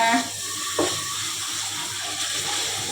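Cold water runs steadily from a tap into a bowl during home cooking of a Thai chili dip, a continuous close splashing hiss lasting throughout.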